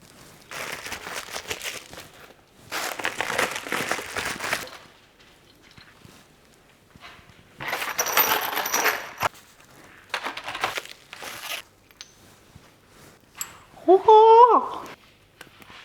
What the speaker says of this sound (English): So I unboxed the Spider rear set.